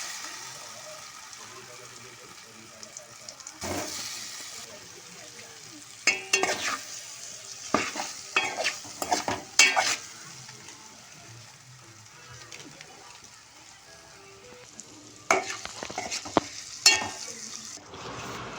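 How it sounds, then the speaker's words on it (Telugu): Paneer pieces fry in butter with a soft, continuous sizzle, punctuated by several brief scraping stirs of a spatula in the pan. "మనం ఈ పన్నీర్ని బటర్లో ఫ్రై చేసుకుంటాం కదా"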